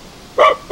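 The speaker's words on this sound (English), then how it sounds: "The dog barking may mean soldiers." A dog barks in the forest near the Moroccan border: two short, sharp barks in quick succession, fairly loud over a quiet background, with no talk.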